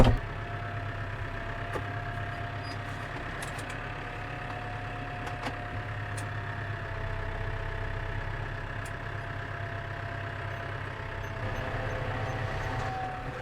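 A farm tractor's engine runs steadily at idle, a constant low mechanical hum throughout with a few faint clicks.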